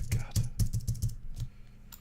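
Rapid clattering keystrokes on a computer keyboard tap out in a quick irregular burst of about eight presses, close and fairly loud, then stop.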